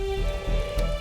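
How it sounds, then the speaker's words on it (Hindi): Sudden heavy rain pours in a TV drama scene, a steady dense hiss of drops on surfaces, loud and continuous with a faint tonal hum running beneath it. "बिन मौसम बारिश कैसे?"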